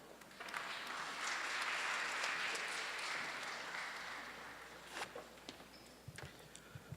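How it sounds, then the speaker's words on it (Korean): Audience applause at a World Peace Day ceremony before a university music performance: a broad, steady wash of clapping that swells, holds, then thins out into a few scattered claps near the end. "모두 박수 부탁드립니다."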